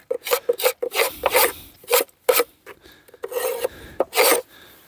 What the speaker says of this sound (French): Donc on gratte le plancher, pareil.